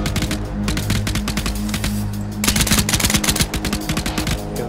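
Sustained automatic gunfire in Arma 3 during a guerrilla warfare firefight, with dense rapid bursts of shots and a heavier volley midway, loud and close, with no talk.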